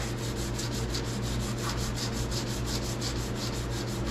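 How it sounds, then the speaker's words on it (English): Hand sanding scuffs the painted door of a 1990 Ford F350 crew cab to prep it for primer, a close, steady rasping rub with quick regular strokes and no talking. "Get this all sanded up. All you got to do is rough it up."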